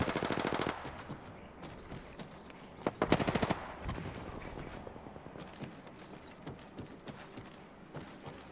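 Bursts of automatic gunfire in the shooter game Apex Legends, with a dense rapid rattle at the start and another volley around the middle, over continuous loud game noise and scattered single impacts.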